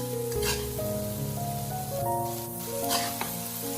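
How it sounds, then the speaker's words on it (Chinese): Tofu skin, tomato and freshly added scallion leaves stir-fried quickly in a wok, a steady close sizzle with scraping and tossing, over a bed of soft background music. "最后再把切好的葱叶加进来，快速的翻炒几下，把葱叶炒至断生就差不多了"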